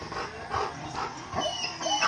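A dog whimpers and yips in short, high, repeated cries, close and fairly quiet, with brief pauses between them.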